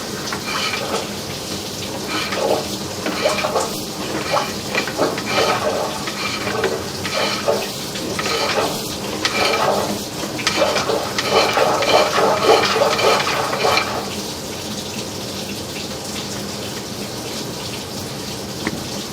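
Sump pump in a house kicks on and water rushes and splashes through it, a steady close wash of flowing water that swells louder partway through before settling back, with no voices.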